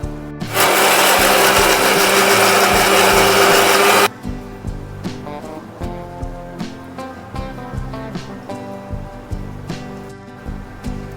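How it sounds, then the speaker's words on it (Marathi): A kitchen mixer grinder whirs loudly, grinding roasted garlic and fenugreek with a little water, a steady roar for about four seconds. It then stops, and a series of rhythmic knocks and rattles follows. "ते मिक्सरला आपण बारीक करून घेणार आहे थोडंसं पाणी टाकून"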